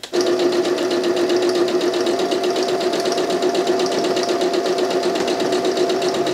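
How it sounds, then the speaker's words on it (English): A sewing machine sews up the edge of a fabric bag, a loud close continuous hum with a rapid regular needle rhythm that holds steady throughout without pause or speech. "We can then come in and sew that edge up."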